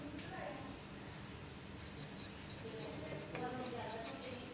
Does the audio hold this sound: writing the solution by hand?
yes